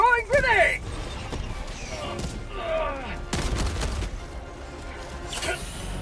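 Gunfire crackles through a Helldivers 2 firefight as a grenade is thrown, with sharp bursts and a heavy impact among whooshing effects while a voice talks over the action.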